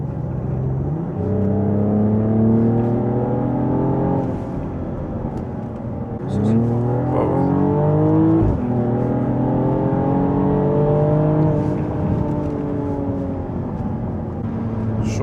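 A Mercedes GLE 53 AMG in Sport Plus mode accelerates hard through several upshifts, each rising engine note dropping at the gear change, loud and close from inside the cabin with no talk.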